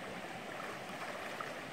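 A fast-flowing cold mountain river, a steady dense broadband rush of water, continuous and fairly close, with no voices.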